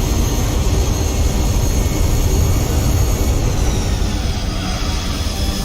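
A Lancer's loud, steady engine roar in Gran Turismo 4, with high turbo and transmission whine running over it, continuous and close, like a racing car at speed.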